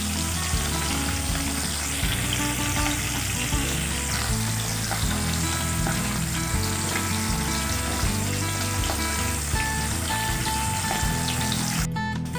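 Hilsa fish frying in a pan of oil sends up a steady, dense crackling sizzle that goes on without a break, close and loud, with no talk over it.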